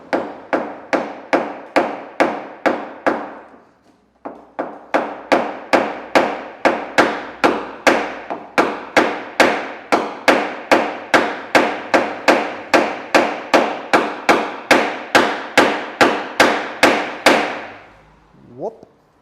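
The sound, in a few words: hammer tapping out a dent in car bodywork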